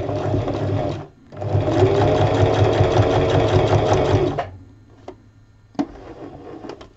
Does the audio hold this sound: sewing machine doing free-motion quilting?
yes